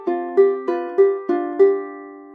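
A ukulele plays the short repeated riff from a solo piece, clear plucked notes in a gentle rhythmic pattern, close and clean with no talking.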